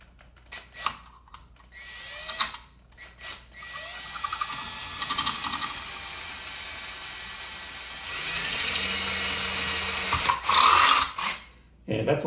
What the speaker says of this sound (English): I've got to drill another hole to the front or the rear